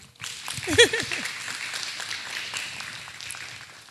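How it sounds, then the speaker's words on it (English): An audience at a basketball player interview applauds the player's mother, a soft, fairly distant wash of clapping after a brief voice near the start, fading gradually. "You want to give Mom a round of applause?"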